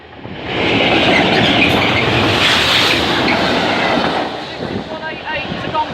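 A train rolls past Stow Park level crossing in Lincolnshire, loud and close, with a dense rumble and rhythmic wheel clatter that builds quickly and holds before easing slightly.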